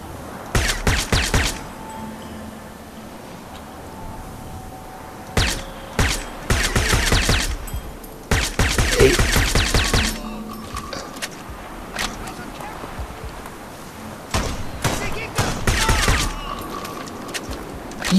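Bursts of rapid gunfire in the video game Crysis in several clusters, with quieter gaps between volleys and a faint voice now and then.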